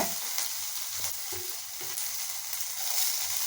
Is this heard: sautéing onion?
yes